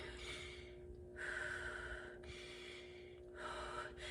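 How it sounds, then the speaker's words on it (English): Deep abdominal breaths drawn in slowly and audibly during a full-body exercise class, two long inhalations near the microphone separated by brief pauses, with a steady low hum underneath. "So we're breathing into our belly, back and sides expansively."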